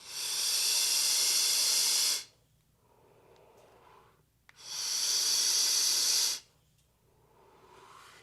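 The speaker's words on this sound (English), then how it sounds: "I'll vape it just normally on the Drag 2 here" Vapor hissing from a single mesh coil on a Drag 2 mod at 70 watts, coil reading 0.11 ohms, airflow wide open: two long, loud, steady hissing draws of about two seconds each, separated by quieter breathy exhales.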